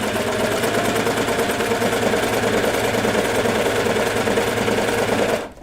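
A sewing machine with a trimming blade runs steadily along fabric beside elastic while sewing kids' pajama bottoms, giving a loud, continuous, rapid mechanical whir and chatter that stops abruptly at the end.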